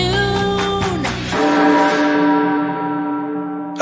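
A church bell tolls with long ringing harmonics, one strike decaying and a fresh toll following, loud and close with no voices.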